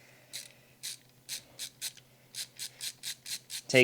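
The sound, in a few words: removing screws from Asus ROG Strix G15 laptop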